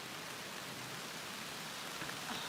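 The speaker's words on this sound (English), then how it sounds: "So the rain has picked up again." Steady, even rain pours down at an alpine 4x4 camp, a dense continuous hiss with no break and no voices, holding level throughout.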